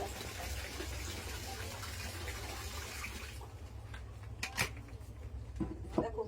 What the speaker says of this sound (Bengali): গায়ে জল নিচ্ছি